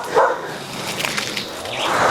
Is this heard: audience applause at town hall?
no